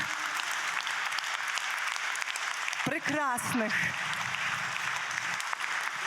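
Sustained applause from a large crowd at a Christmas festival in Ivano-Frankivsk, Ukraine fills the whole stretch, dense and steady, with a speaker's voice briefly rising over it in the middle.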